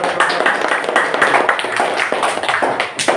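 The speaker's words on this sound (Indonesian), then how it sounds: "Tepuk tangan dong" A classroom audience of students claps for a presenting group, a short burst of distinct, uneven handclaps from a small crowd, close and fairly loud, lasting about three seconds.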